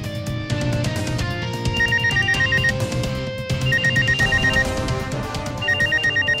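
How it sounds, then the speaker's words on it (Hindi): A phone rings with a repeating electronic ringtone melody, loud and close, cycling through several bursts with brief gaps and no talking. "Pick up the phone, damn it."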